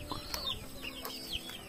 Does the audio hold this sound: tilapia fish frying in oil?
no